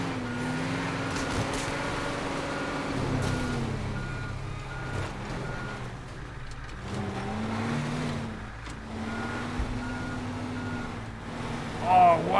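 A truck in the game Teardown rumbles along with a steady engine drone, its reversing alarm beeping in a regular repeating pattern, and the engine revs rise briefly near the end.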